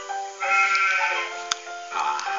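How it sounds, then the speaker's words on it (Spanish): Two wavering sheep bleats, close and loud, the first long and drawn out, the second shorter after a brief pause with a faint click between. "La oveja también tiene hambre."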